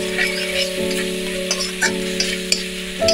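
Spices with turmeric and Kashmiri red chilli powder sizzle in a pan for Bengali rui posto, a short close frying hiss with a few sharp stirring clicks over a steady background hum.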